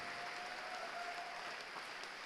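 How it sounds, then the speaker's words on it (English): A crowd at a robotics district competition's opening ceremonies gives mentors and coaches a steady, even round of clapping, heard from a distance. "let's just give the mentors and coaches one more round of applause because they really deserve it"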